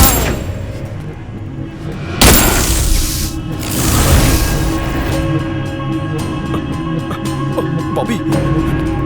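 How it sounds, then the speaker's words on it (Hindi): A single loud gunshot rings out during a film scene where a gun is being test-fired, a sharp boom about two seconds in, amid a dense, noisy soundtrack with voices. "गन टेस्टिंग की वजह से गोली चली।"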